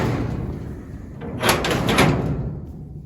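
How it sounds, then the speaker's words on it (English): A large steel livestock trailer door swings shut on a farm while loading a grass-fed Red Devon steer, giving a couple of loud metallic clanks and rattles around the middle over steady outdoor background noise. "Sam will close the big door here"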